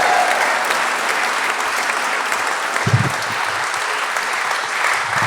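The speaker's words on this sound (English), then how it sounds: "Please give him a round of applause." Warm, steady applause from an audience greets a guest joining on stage, dense and even throughout with a brief low thump near the middle.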